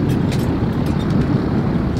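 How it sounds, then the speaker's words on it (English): Jet blast from a military fighter jet on a taxiway comes through as a loud, continuous roar with a heavy low rumble and gusty, wind-like texture. "Jet blast. Check this out."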